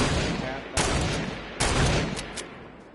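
Two sharp gunfire reports in the Fortnite video game, spaced about a second apart and followed by a few fainter pops, over a steady background rumble with no talk.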